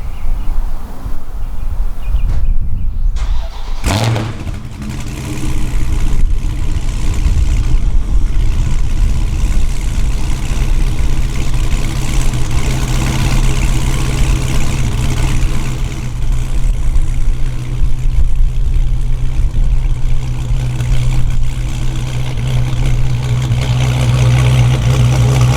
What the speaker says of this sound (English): so I'll do a cold start from the same distance as yesterday